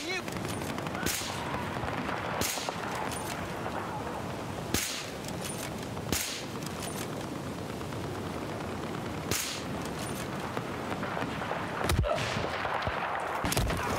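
Gunfire in Battlefield 4 Gun Master on PC: sharp single shots crack out every second or two over a constant rumble of battle noise, with a quick burst near the end and a player speaking quietly at times.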